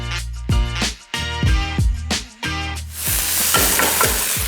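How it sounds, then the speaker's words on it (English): Beef pieces hit hot oil in a wok for a chilli beef stir-fry, giving a run of loud sizzling bursts with rhythmic tossing and stirring clatter, then a steady, intense sizzle. "Once the oil temperature is nice and hot, get your beef."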